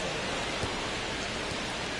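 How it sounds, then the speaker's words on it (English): Steady, dense rain pours over a ballpark in MLB The Show 25, a continuous hiss of falling water with no pauses, filling the scene evenly and fairly loud. "This rain is not letting up."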